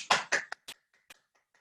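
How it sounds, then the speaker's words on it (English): Scattered hand claps from a few webinar participants at the close of an online session, several quick claps then isolated taps fading out, sparse and fairly close. "give yourselves a big clap"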